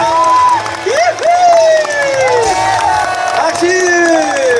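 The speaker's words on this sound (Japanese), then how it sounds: "拍手。" Audience at a Formula 1 driver talk show at the 2018 Japanese Grand Prix, featuring Toro Rosso Honda drivers, cheers and whoops loudly with scattered applause. Excited voices rise and fall throughout.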